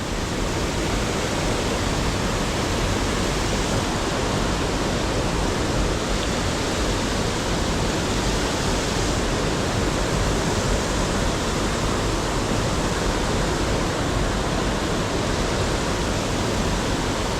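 A waterfall on a river in the remote upper reaches of Jelebu pours loud and steady, a dense unbroken roar of rushing water close by with no voices over it.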